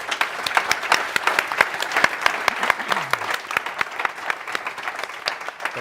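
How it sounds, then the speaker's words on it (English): An audience at a last-mile delivery industry meetup applauds, with dense clapping that stays steady for several seconds, close and loud, with a few voices faintly mixed in. "Give yourself an applause."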